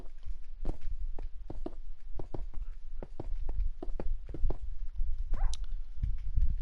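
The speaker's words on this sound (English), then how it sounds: "Dog." Dog barking in the Minecraft video game, a series of short sharp yelps repeating irregularly alongside game footstep and clip-clop sounds, fairly close and loud, with no talking.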